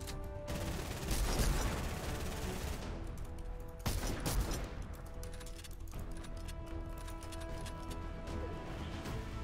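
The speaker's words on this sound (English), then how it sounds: "I will delete you with this new rifle" A legendary infantry rifle fires in a video game, bursts of rapid gunshots in quick volleys with heavy impacts, loud and dense, mixed with game effects.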